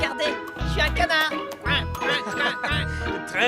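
A cartoon character imitates a duck, voicing three short nasal quacks in a cheerful rhythm, with bright chimes and talk between them.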